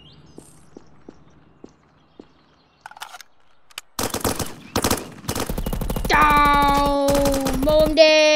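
Rapid machine-gun bursts in a Roblox shooter open up after a few quiet footstep-like taps, several loud rattling volleys mowing down soldiers, with game tones and a synthetic drone layered over the later fire.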